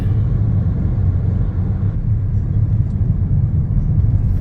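Steady, loud low engine rumble and road noise inside an Uber car climbing uphill in the evening, continuous and close throughout with no talking.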